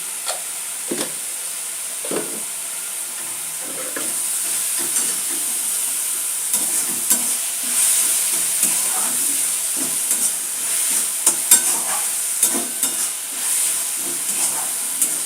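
Steady frying hiss of red amaranth greens fills a pan, with scattered crackles and occasional scraping stirs over a long continuous sizzle; no one speaks.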